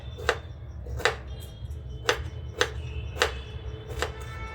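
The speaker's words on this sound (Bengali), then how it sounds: "এই সব ফুলকপি কাটা হয়ে গেল" Cauliflower being chopped with a knife on a board, six crisp, evenly spaced strikes cutting through the florets over a low background hum, close and fairly loud.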